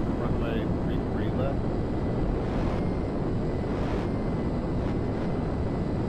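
A fighter jet in GTA 5 circles back to land on a runway, its engine a constant roaring rumble with wind noise that stays steady throughout, and someone talks over it.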